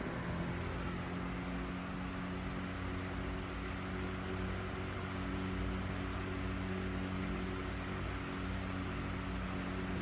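An Emerson 77646S electric fan running at medium speed, giving a steady, continuous motor hum and airy whoosh with a faint tonal drone, close and unchanging throughout with no talking.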